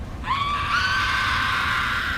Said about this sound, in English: Screaming can be heard all across town.